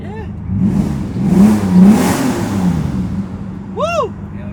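A 750 hp twin-turbo Lamborghini Diablo revs hard, its engine note rising and falling in loud surges while another car passes nearby near the end.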